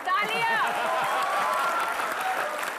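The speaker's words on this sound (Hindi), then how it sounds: "तालियां बोल रही" Studio audience applause on an Indian TV comedy show, a dense continuous wash of clapping that stays loud throughout, with a voice briefly rising over the start.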